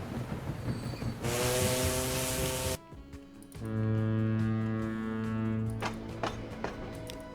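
A freight train in Transport Fever 2 rumbles loudly along the track with clacking wheels, then sounds a long sustained horn, alone without talk.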